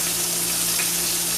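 A pork chop sizzles in a hot pan, a brief, close, continuous frying hiss with a faint low hum under it and no talking.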